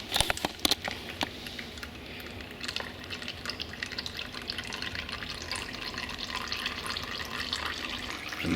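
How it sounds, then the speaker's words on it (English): Transmission fluid drains from an 11mm drain plug on a GM transmission, a steady close trickling and splashing of liquid that runs continuously, with a few sharp clanks near the start. "draining the rest of the fluid out of here."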